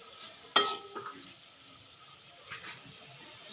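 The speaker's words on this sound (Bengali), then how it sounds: "এখন মাছটাকে আমি ভালো করে নেড়ে চেড়ে কষিয়ে নেব" Small pieces of hilsa fish cooked with bottle gourd hiss softly in a pan, with a sharp metallic clank of the spatula early on and quieter scraping stirs after; a faint voice may be present.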